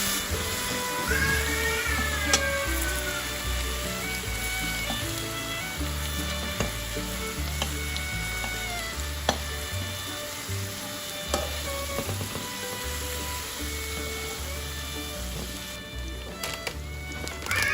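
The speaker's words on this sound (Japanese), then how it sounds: "甘辛だれを加えて汁気が少なくなるまで炒めていきます" Chicken wing tips stir-frying in a sweet-spicy soy and ginger sauce in a pan, a steady close sizzle running under light background music throughout.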